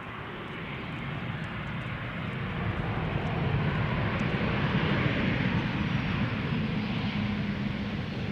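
A Ryanair Boeing 737 from Dublin lands at Schiphol, its engines a steady, distant broadband roar that swells slightly and holds throughout, with no voices.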